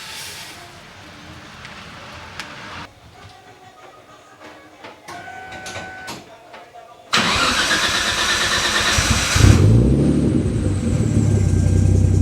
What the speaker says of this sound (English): I let the car idle for over a half an hour with these citric acids inside the system.